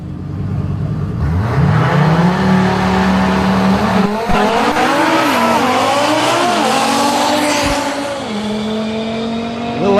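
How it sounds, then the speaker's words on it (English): Drag race cars at a World Cup event blast down the strip, engines revving hard and rising in pitch as they pass, with a tire squeal and a loud close roar that shifts and fades toward the end. "Audi on a pass on the right-hand side of the racetrack."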